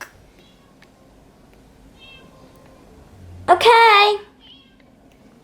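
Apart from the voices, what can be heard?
cat meowing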